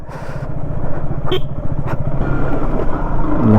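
A motorcycle coasting in neutral down a rough mountain road near Ghandruk, Nepal, gives a steady, loud low rumble with engine and road noise throughout and no break.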